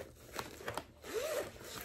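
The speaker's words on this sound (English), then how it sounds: "It has a zipper." Zipper on a fabric divider pouch pulled in short tugs, a couple of quick scratchy rasps followed by a longer zip, close up and fairly quiet with no voices.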